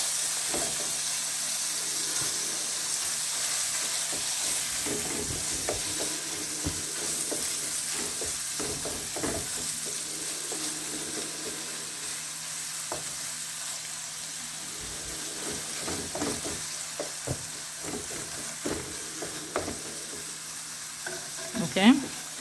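Ground turkey frying in a pan for chili, with a low steady sizzle throughout and scattered soft clicks and scrapes as it is turned over and over, ending in a slightly louder scrape.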